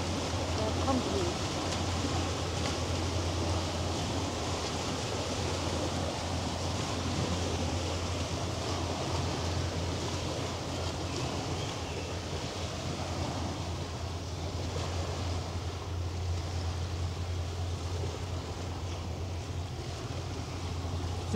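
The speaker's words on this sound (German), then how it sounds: "Hört ihr die Wellen?" Waves wash along the Elbe river in Hamburg's container port, a steady broad rush of water with wind buffeting the microphone and a low constant hum underneath, unchanging for the whole stretch.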